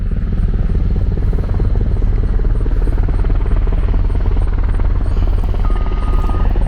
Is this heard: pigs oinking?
no